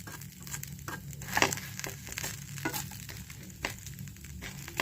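Onion utthappam sprinkled with curry leaf powder fries on a hot pan as it is flipped, giving a soft continuous sizzle with small crackles and a few light scraping taps.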